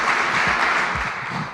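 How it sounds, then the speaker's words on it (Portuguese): A church congregation applauds a guest speaker, a steady, dense wash of many hands clapping that fills the room, with a few faint voices underneath. "Vamos aplaudir a vida dela, grata ao Senhor por ela se dispor."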